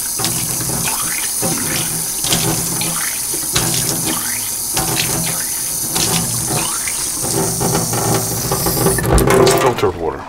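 Filtered water runs steadily from a tap into a sink and test tube, a continuous splashing rush with small clicks and clatters of glassware, getting louder and fuller near the end.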